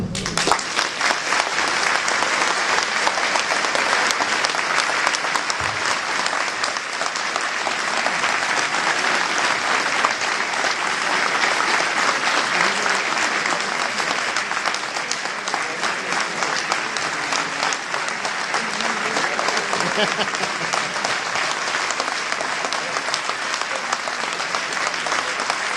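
Sustained applause from an audience at a public talk on money laundering, steady and dense clapping filling the whole stretch without a break, loud and continuous from start to finish.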